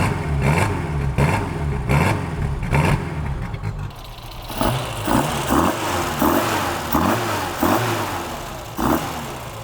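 A 1972 Datsun 1200 engine with mild cams, at first idling close with a choppy, lumpy pulse, then revved in a series of repeated throttle blips that rise and fall loudly.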